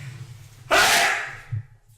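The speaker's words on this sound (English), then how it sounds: "I gotta sneeze" A single loud, sharp sneeze bursts out abruptly and fades over about half a second, with faint low murmuring before and after it.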